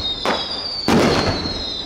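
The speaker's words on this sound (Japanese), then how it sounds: "この日は花火の打ち上げもホテルからは見えました。" Fireworks launched over Ishigaki Island, Japan, heard from a hotel: two sharp bursts, the second louder, each trailing into a crackling decay over a steady high insect-like whine.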